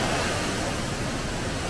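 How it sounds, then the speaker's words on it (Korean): Shuanglong waterfall at Xiaoqikong in Guizhou, China, pours in a dense, continuous rushing roar that stays loud and even from start to finish, with no voices over it. "여기 폭포가 수왕롱 폭포입니다"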